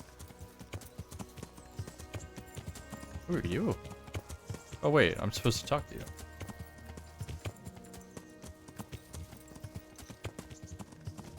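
In a video game, hooves clip-clop in an even patter beneath a voice as he speaks, the footfalls staying close and moderately loud throughout.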